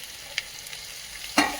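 Tomatoes go into browned onions frying in a pan for paneer masala, with a steady sizzle broken by two sharp stirring clatters, the second louder, close and with no talk.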